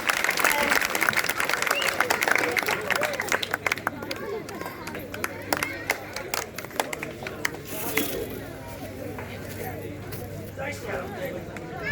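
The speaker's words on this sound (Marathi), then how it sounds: "जोरदार टाळ्यांनी स्वागत" Loud applause from a crowd welcoming a speaker onto a stage at a public event, dense clapping strongest at the start and thinning later, with a voice talking over it.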